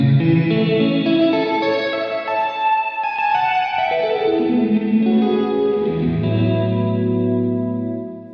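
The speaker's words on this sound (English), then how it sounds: "Okay, and then if we bring the reverb mix up" An electric guitar through a JHS 3 Series Hall Reverb pedal with the mix turned up plays sustained chords that bloom into a wide, washy hall tail, with notes ringing and fading into lush reverberation, loud and alone.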